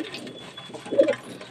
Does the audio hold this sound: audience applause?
no